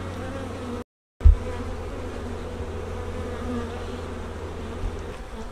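Honeybees buzz steadily around a baited swarm trap outdoors, a dense low hum filling the air close by, broken by one brief silent gap and a soft knock, with no talking.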